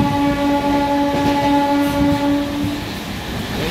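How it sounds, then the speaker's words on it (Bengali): A local passenger train on the Barddhaman line passes close by, loud rumbling and clattering wheels with a sustained horn tone that fades out toward the end. "গন্ডার থেকে বর্ধমান লোকাল, ওটা ট্রেন ফাঁকা, ওটা ট্রেন।"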